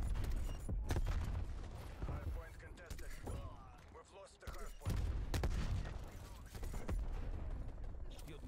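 A MAC-10 submachine gun fires in Call of Duty Cold War, dense loud bursts of automatic gunfire with brief pauses, mixed with game mechanism clatter and effects throughout.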